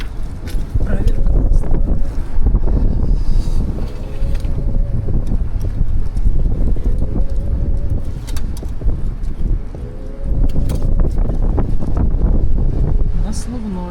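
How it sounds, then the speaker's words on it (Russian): Strong outdoor wind roars and buffets the microphone continuously, a heavy rumbling gust noise with brief dips, while a voice talks faintly underneath. "Сегодня сильный ветер, ужасный какой."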